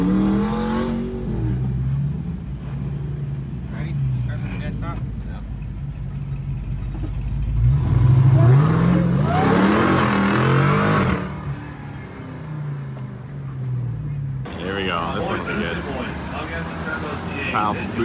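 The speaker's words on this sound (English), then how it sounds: "Boosted boys, twin turbo C8." A twin-turbo C8 car accelerating at a spectator drag race, its engine surging loud and close before fading off, with people talking throughout.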